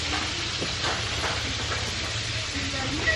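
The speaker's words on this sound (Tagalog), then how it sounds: "nagpiprito siya ng isda" Fish frying in a pan during home cooking gives a steady, close sizzling hiss that runs unbroken from start to finish, with a low background hum underneath.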